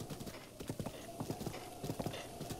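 Horse hooves clip-clopping in the video game Zelda: Breath of the Wild, a steady rhythmic trot of hollow knocks over a dense game soundscape, close and continuous.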